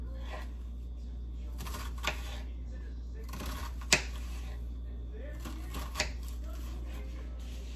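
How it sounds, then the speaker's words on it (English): A knife dicing an onion on a cutting board, a few sparse, faint chopping taps spread out over a steady low hum, with a person talking throughout. "Then I'm going to take this onion, and I'm just dicing it up"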